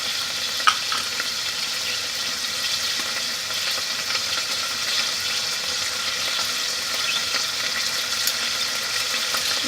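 Turkey strips with curry simmer in crème fraîche in a pan, giving a steady, close bubbling sizzle that stays even throughout with no talking.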